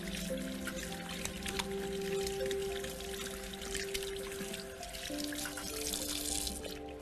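Clean tap water runs steadily as hands are rinsed after washing, a continuous soft splashing stream with faint drips, close and moderately quiet, with no talking.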